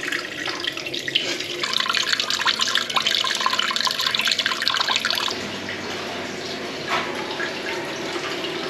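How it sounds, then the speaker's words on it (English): Water drains from a urinal trough's trap into a bucket, a steady close trickle and splash that softens and thins partway through, with occasional drips. "I decided to undo the top thread and just let it drain down into a bucket"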